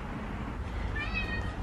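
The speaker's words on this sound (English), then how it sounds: "The cat is back and he's sitting right in the middle." A male cat perched on top of a parked car gives a short, clear meow, close by over a low steady background hum.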